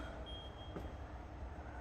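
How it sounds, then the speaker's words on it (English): A single steady electronic tone sounds for about a second over a low machine hum, thin and fairly faint, with a brief click midway. "Matthew beeping away trying to figure out how the RCD test works."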